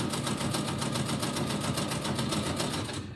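A computerized sewing machine quilts on its own, stitching in a fast, steady rhythmic chatter at close range that eases slightly at the very end.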